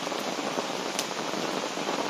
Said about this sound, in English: 6 or 7 weeks of this rain we've had